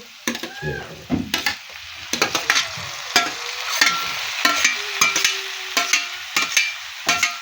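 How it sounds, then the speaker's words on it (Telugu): Tomato pieces sizzle in hot oil for a Telugu ivy gourd curry, with a continuous frying hiss broken by frequent sharp scrapes and clacks of a spoon stirring the pan up close. "వక్కలు, టమాటా వక్కలు వేసుకుంటున్నా ఇప్పుడు."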